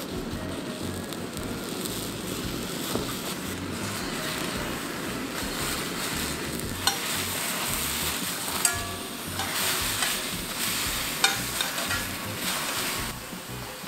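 A whole eggplant sears in a hot pan without water, giving a steady close sizzle of frying that runs continuously, with a few light clicks of the pan or utensil partway through.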